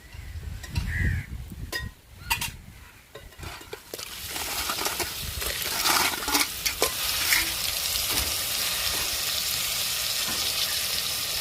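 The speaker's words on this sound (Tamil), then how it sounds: "நண்டை சேர்த்துக்கிறோம்" Something drops into a hot pan and a loud, steady sizzle of frying takes over, with stirring scrapes and a few crow caws in the background.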